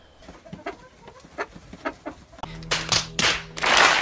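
A rooster clucks and calls, a series of short bird sounds followed by louder, longer cries toward the end.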